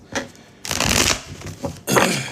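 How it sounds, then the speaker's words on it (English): A deck of tarot cards is shuffled in several bursts of rapid, crisp riffling close to the mic, separated by short pauses and softer taps, with no talking. "I'll shuffle them again just for shits and giggle."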